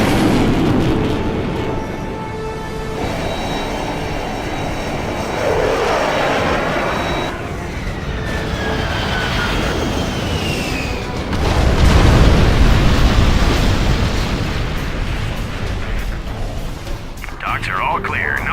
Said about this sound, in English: Launching airstrike.